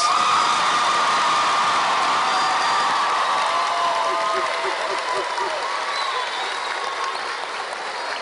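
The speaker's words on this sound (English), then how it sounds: "One more round of applause for those graduates" A graduation crowd at an alternative high school ceremony applauds loudly from the start, with a few whoops and cheers over the clapping, which slowly thins toward the end.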